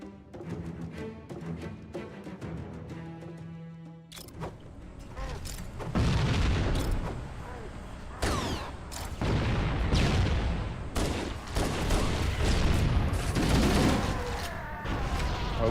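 Grenade blasts in Halo: Combat Evolved, several loud booms arriving in quick succession with crackling debris and echoing rumble, following a quieter stretch of in-game ambience.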